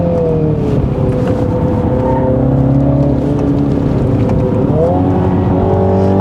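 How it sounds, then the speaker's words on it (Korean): A 2020 Mini Countryman JCW with 306 hp, its engine sound in sport mode with the virtual engine-sound effect, gives a loud, continuous close-up drone that holds steady and then climbs in pitch as it revs on a winding road. "이 엔진, 그 가상 엔진 사운드 효과음이 스포츠 모드일 때 확실히 더 낮은 RPM에서부터 조금 다른 음색으로 그렇게 보여주네요"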